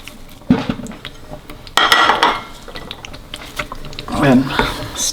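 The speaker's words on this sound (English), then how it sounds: "And then stir that all in" A spoon scrapes and clinks in a pan as coriander is stirred into chicken patiala over a lit gas flame, a few close bursts of stirring with a voice talking alongside.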